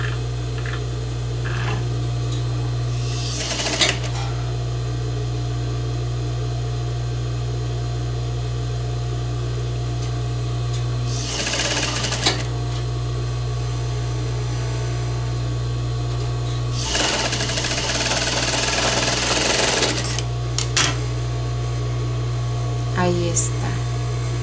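A sewing machine stitches a French seam in fabric in three separate bursts, the last one longest, over a steady low electrical hum with a voice talking nearby.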